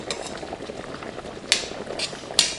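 Raw shrimp sizzle and bubble steadily in a hot pan for pasta, with a couple of sharp utensil scrapes as they are stirred.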